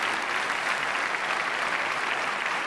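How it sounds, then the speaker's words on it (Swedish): Warm audience applause for the songwriters at the 1992 Melodifestivalen, a steady, even roar of many hands clapping at close range, continuous with no voices on top. "jag tycker vi ska ge en mycket varm applåd till upphovsmännen"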